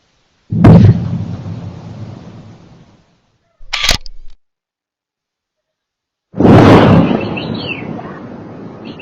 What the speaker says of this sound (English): it is possible you heard a large explosion this morning